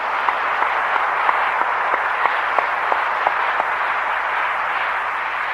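Korean church congregation at a large Pentecostal service breaks into sustained applause, a dense crowd of clapping with a steady, even texture and no speech over it.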